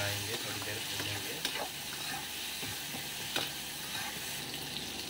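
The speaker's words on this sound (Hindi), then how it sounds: "इसको हम मिलाएंगे थोड़ी देर भूनेंगे" Raw mango chutney sizzles and roasts in a pan while a spoon stirs it, with soft scraping clicks scattered over a constant hiss of frying.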